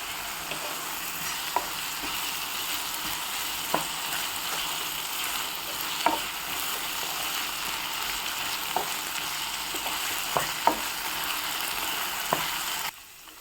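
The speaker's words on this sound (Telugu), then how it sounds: "ఆనియన్స్ ఫ్రై అవుతుండగా 1 స్పూన్ ఫ్రెష్గా రుబ్బుకున్న జింజర్ గార్లిక్ పేస్ట్ యాడ్ చేసుకోవాలి." Onions fry in a pan as freshly ground ginger garlic paste goes in for a spicy Rayalaseema egg curry, a steady close sizzle with occasional light clicks of a spoon, no one speaking.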